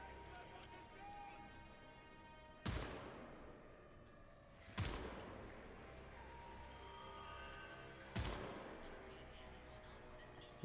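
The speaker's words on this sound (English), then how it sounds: "Let's try the new rifle." Rifle gunfire in the first-person shooter Wolfenstein: The New Order sounds as three loud, sharp shots spaced a couple of seconds apart, each with a short decaying tail over a steady game ambience.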